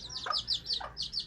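Small bantam breeding chickens cluck and chirp in quick, close bursts, several short calls in a row at moderate volume.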